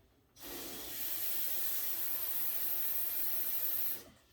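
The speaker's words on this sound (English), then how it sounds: "first step is to fill your pot of water" Tap water running into a cooking pot for about three and a half seconds, a steady rushing hiss that starts and stops abruptly, close with no voices.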